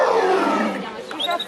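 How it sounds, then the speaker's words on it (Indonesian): A toy tiger gives a recorded growling roar, one sustained falling roar for over a second, close and fairly loud, with a chirpy electronic sound toward the end. "Wehehe, harimau teman-teman."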